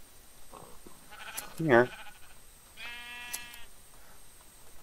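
A sheep in the video game World In a Jar gives two short bleats, one wavering and one clear, close and moderately loud, with a person speaking briefly between them.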